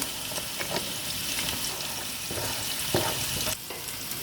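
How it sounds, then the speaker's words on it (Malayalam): A thick jackfruit, jaggery and rice flour mixture being stirred in a pan, with steady bubbling sizzle and intermittent scraping strokes of a spoon, close and continuous. "അതിലേക്ക് നമ്മുടെ അരിപ്പൊടി ഇട്ടിട്ട് മിക്സ് ചെയ്തെടുക്കാം."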